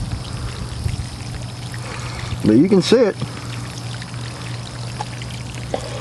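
Rain barrel water running from an opened valve through PVC irrigation pipe, a steady pouring and trickling flow under outdoor hum, with someone talking briefly over it.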